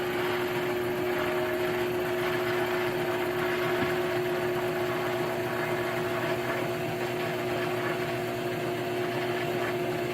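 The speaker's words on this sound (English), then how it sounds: "Now for this, I do like to spin it up to around 1800 RPM." Lathe spinning a drill chuck tool handle at about 1800 RPM, a steady close motor hum with a constant whine and faint friction hiss throughout, unchanging.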